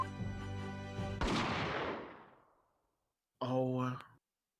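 A single loud gunshot in The Great Ace Attorney 2 cuts off a sustained musical tone and rolls into a long, fading reverberant boom, followed moments later by a short vocal sound.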